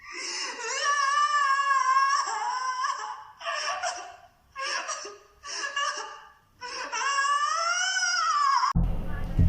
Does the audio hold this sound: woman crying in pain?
yes